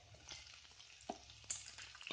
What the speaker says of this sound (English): Stir the lentils for approximately 3 seconds lightly in the oil